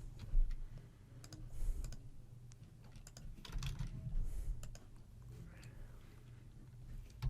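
Rapid, irregular clicking of computer keyboard keys as card details are typed in, close and fairly quiet, with brief pauses between bursts and a faint low hum underneath.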